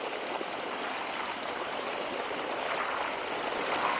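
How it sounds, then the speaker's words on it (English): A strong, continuous gush of water pouring from a pond pipe, a dense, even rushing close to the microphone that holds steady throughout. "That is some serious flow."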